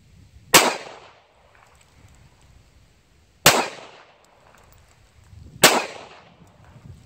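Three sharp pistol shots with a Trijicon RMR red dot are fired at a 3-yard range outdoors, each a loud single crack spaced a few seconds apart with a brief decaying echo.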